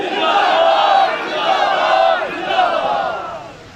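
A large crowd at a religious gathering shouts a religious slogan in unison, two or three loud drawn-out rising calls in quick succession.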